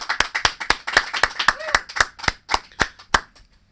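Studio audience clapping on a Las Vegas talk show: a small group's distinct, sharp handclaps in a steady rhythm, close and fairly loud, tapering off near the end.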